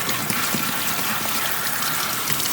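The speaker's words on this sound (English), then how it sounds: "Let's rinse off our eggplant." Steady, close rush of running tap water as an eggplant is rinsed in a kitchen, continuous and even throughout with no voices.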